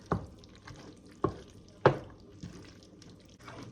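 Pasta being stirred into a pot for macaroni and cheese, a few wet, sticky squelches and clanks at irregular intervals, close and fairly quiet, with no talking.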